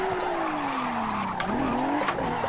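Tires screech and skid through a spinning 360 in the Assetto Corsa racing game, a Toyota GT86 with a 2JZ engine swap, its engine note sweeping down and back up under a continuous loud squeal.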